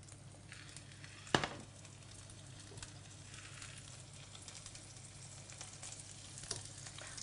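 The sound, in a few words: venison frying in a pan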